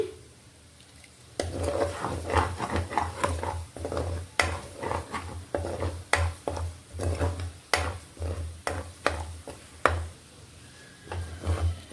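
Ginger garlic paste frying in a pan for gongura chicken pachadi, stirred with steady, rhythmic scraping strokes over a continuous close sizzle.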